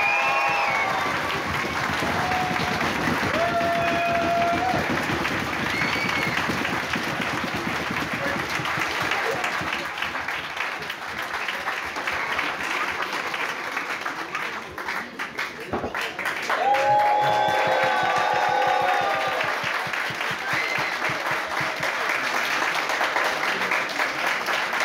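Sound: audience applause for the costume contest winner

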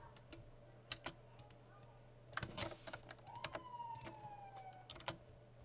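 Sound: police car siren outside

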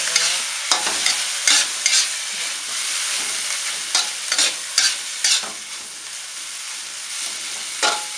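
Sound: stir-frying bamboo shoots with egg

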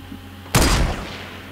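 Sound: sniper rifle gunfire in Fortnite, a video game

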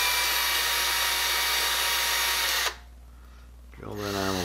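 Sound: drilling out a hole with a small drill

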